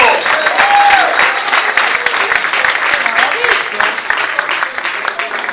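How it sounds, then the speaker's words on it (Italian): Sustained applause from a large crowd, steady and loud throughout, with voices faintly audible beneath the clapping. "Un bel applauso a Silvio!"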